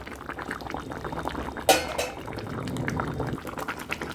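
Rohu fish curry simmers uncovered in a pot with a close, bubbling, gurgling boil; a sharp clatter cuts in partway, then the bubbling carries on.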